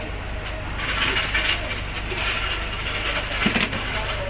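A ratchet tightens a bolt during a timing belt job on a Hyundai Starex, steady mechanical clicking and whirring close by over a noisy workshop background, with faint voices.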